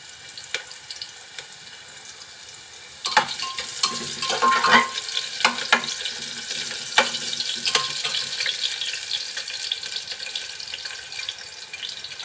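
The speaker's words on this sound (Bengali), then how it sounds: "তেলটা যখন একটু গরম হয়ে আসবে দিয়ে দিচ্ছি পেঁয়াজ কুচি" Chopped onion drops into hot oil in a home kitchen pan, and a sudden burst of sizzling partway through settles into a steady crackling fry with clattering stirring close by and no talking.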